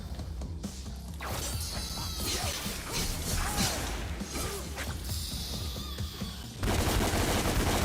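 Gunfire and combat in the action game DmC: Devil May Cry, a dense, loud stretch of shots, crashes and whooshing hits layered over a steady game soundtrack, with a heavier burst near the end.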